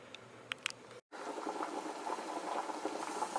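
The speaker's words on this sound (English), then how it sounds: "Okay, so I am boiling my peppers." Peppers boil in a pot of water on a stovetop, a close, steady bubbling that fills the clip after a few faint clicks and a brief pause at the start.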